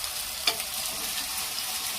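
Onion with ginger garlic paste sizzles steadily in a pan for chicken curry, a dense hiss with one brief clink of a utensil near the start and no talking.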